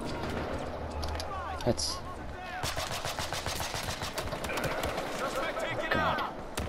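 Sniper rifle shots and gunfire in the video game Battlefield Hardline, sharp cracks scattered through the clip beneath continuous battle noise, with a person talking over it.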